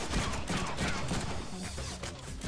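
Dense gunfire from the Deadpool video game, a continuous rattle of overlapping shots with crashes, loud and close throughout.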